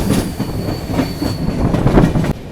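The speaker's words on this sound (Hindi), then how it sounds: "क्रॉसिंग के बाद वीर रेलवे स्टेशन से अपनी ट्रेन निकल रही है" The Mandovi Express pulls out of Veer railway station with a loud, steady rumble of wheels on track, rhythmic clatter and a faint thin squeal, heard close.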